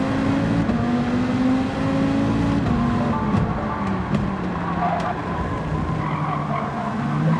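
A race car in Gran Turismo 7 crashes, heard as loud continuous tire skidding over a droning engine whose pitch slides and wavers, sustained close up without a break.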